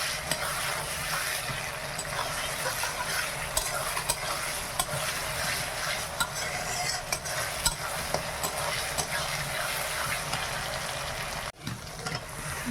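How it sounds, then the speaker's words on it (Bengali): Ground garlic, then ginger, frying and being stirred in a pan, a steady unbroken sizzle with scraping stir sounds that dips briefly near the end; no talking. "রসুনটা বাটা হয়ে ভাজা হয়ে গেছে, এইবার আমি আদাটা দিয়ে দিলাম।"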